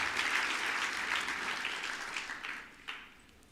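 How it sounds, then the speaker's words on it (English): Audience applause for a young girl who has just sung at a university lecture, steady broadband clapping from a crowd in a hall that gradually fades out. "give another round of applause for the young girl here who sang the music"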